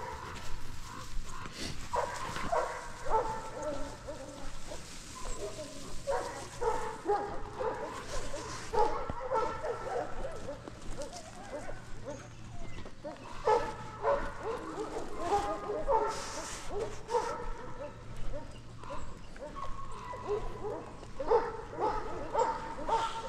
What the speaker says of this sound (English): he's a very high energy dog